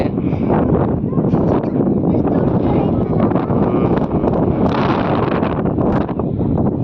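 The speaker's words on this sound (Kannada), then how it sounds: "ತುಂಬ ಗಾಳಿ ಬೀಸ್ತಾ ಇದೆ" Strong wind roars steadily against the microphone at a hilltop stone fort, a loud continuous buffeting rush with gusts that swell and fade.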